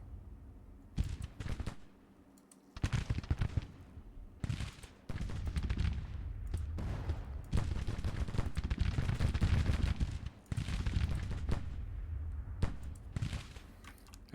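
Springfield muskets fire in a Civil War battle in Grand Tactician: The Civil War, with ragged volleys and rolling crackles of massed gunfire coming in repeated waves, some loud and close, with brief lulls between them.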